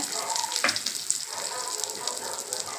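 Chillies, ginger and curry leaves sautéing in a pan for urad dal chutney give a steady bright sizzle, with a short clatter near the start and faint background voice.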